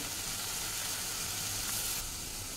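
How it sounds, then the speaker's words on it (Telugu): Soy sauce hitting a hot pan of baby corn Manchurian, giving a steady, loud sizzle and hiss that holds evenly throughout, with no voices. "ఇప్పుడు సోయా సాస్ వేస్తున్నానండి."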